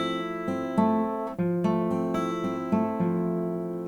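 Clean fingerpicked guitar arpeggio, notes plucked one after another in an even, flowing rhythm, ringing together, played alone at moderate volume.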